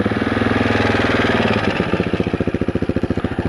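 A 2018 Husqvarna 701 SM motorcycle with its exhaust baffles fitted fires up loud and close, a rough rising rumble that settles into a steady, evenly pulsing thump of idle.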